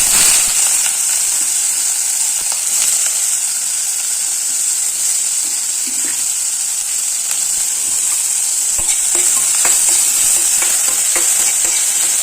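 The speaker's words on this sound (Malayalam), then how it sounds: "അതിനകത്ത് ഉള്ളി ഇട്ട് നമ്മൾ" Onion fries in coconut oil with a loud, continuous close sizzle and steady hiss, small crackles scattered throughout, no talking.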